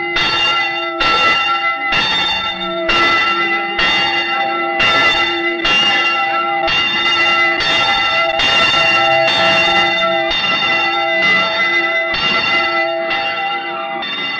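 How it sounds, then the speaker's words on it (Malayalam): A church bell rings loudly and close in a steady, regular series of about a dozen strikes, each tone ringing on and overlapping the next, with no voices present. "പള്ളിമണിയല്ലേ കേക്കണേ?"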